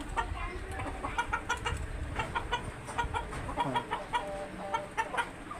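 Native chickens on a poultry farm cluck in short, repeated bursts, several birds calling near and far with little pause between them.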